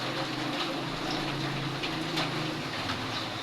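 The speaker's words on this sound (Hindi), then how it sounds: "बहुत ज़्यादा बारिश हो रही है।" Heavy rain pours down in a dense, steady hiss during a storm, filling the scene evenly for a few seconds with a low rumble underneath and no voices.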